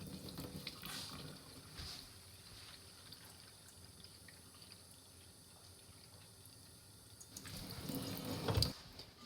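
Tap water runs steadily from a faucet through a Berkey water filter element to prime it, a constant hiss and splash that swells louder near the end.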